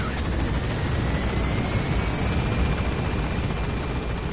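A helicopter in the video game Metal Gear Solid 5 climbs to gain altitude, giving a loud, dense, continuous rotor roar and whoosh that stays steady and close throughout.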